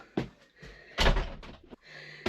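A lodge door at Eye Kettleby Lakes, near a private hot tub, opens and then shuts with a solid thud, two close, fairly loud knocks about a second apart.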